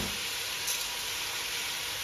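Masala with turmeric and salt sautéing in a hot pan for prawn biryani, a steady dense sizzle close up with no talk.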